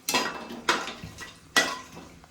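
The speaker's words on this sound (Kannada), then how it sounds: "ಬಿರಿಯಾನಿ ಸ್ಪೈಸಸ್ ಇವಾಗ ಒಂದ್ಸಲ ಚೆನ್ನಾಗಿ ಕಲಿಸ್ಕೊಬಿಡೋಣ" Spices for biryani being stirred in hot oil inside a pressure cooker, with three sharp metallic scrapes of a spoon against the pot at a steady pace and no voices.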